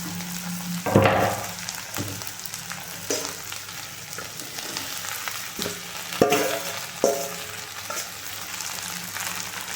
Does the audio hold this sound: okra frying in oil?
yes